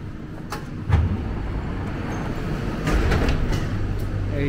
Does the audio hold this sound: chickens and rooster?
no